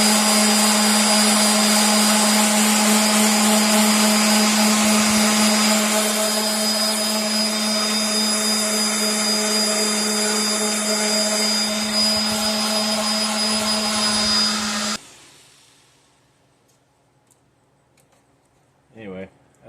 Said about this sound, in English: Got a palm sander with 100 grit.